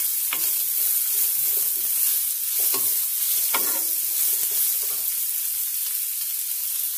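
Onions browning in a pan for a mutton and potato curry, a steady loud sizzle throughout with occasional stirring scrapes and clinks, no voices.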